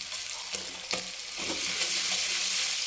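A spice paste for mutton curry, made with coriander powder, fries in mustard oil, starting with a couple of soft utensil clinks before a quiet sizzle swells and continues.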